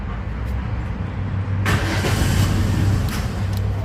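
A Chevrolet Spark, unable to start on petrol but running on gas, idles close by with a steady low engine hum; partway through a sharper, brighter surge of engine noise joins and holds to the end.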